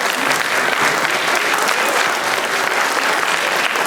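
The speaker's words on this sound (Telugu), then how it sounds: "ఈ అలంకారం చేసిన వారికి మరి గట్టి చప్పట్లు కొట్టకపోతే ఎలా" Dense, loud applause from an audience fills a Sri Sita Rama Kalyanam ceremony in Rugby, steady and unbroken from start to finish.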